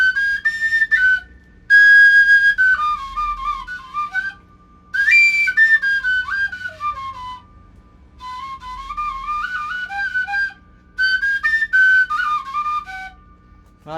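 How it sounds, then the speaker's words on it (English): A bamboo suling flute plays a Pelog-scale melody in short phrases of sliding high notes broken by brief pauses, close and clear over a faint low hum. "Here, for example, is a suling that is in a Pelog scale,"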